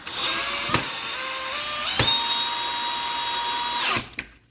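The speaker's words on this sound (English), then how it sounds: "speed this up and use an actual drill" Power drill boring a hole for a Starlink mount, a loud close whine holding steady for about four seconds with small pitch shifts as the bit bites, then stopping abruptly.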